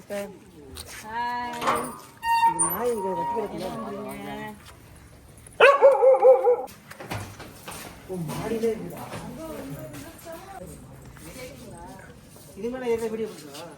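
An indoor dog barks and whimpers to be let outside, with loud close barks in short bursts and yips between them while people talk throughout.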